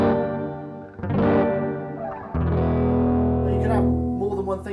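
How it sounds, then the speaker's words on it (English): An electric guitar played through a Line 6 POD HD500 into an AC30 amp plays sustained chords drenched in reverb, notes ringing out and washing into a long echoing tail. "going to add some reverb to this now"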